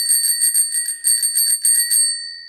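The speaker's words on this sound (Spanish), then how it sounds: "Como veis, el timbre funciona." A restored bicycle's bell rings in a quick, bright run of repeated dings for about two seconds, loud and close, with no talking.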